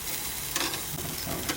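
Meat sizzles steadily over hot charcoal, a dense continuous crackle with a few brighter scraping bursts as pieces are flipped, close and fairly loud with no voices.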